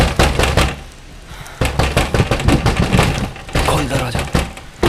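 A fist pounding on a door in repeated heavy knocks, loud and close, mixed with urgent shouting voices.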